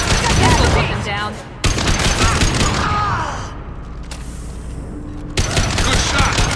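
Rapid sci-fi gunfire from a Mass Effect 2 firefight crackles in loud, dense bursts, broken by short pauses and mixed with combat noise and brief voices.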